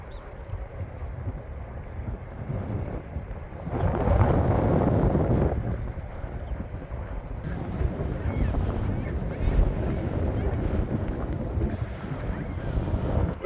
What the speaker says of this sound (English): With that gusty southwest wind, the momentum of the waves out there is really starting to pick up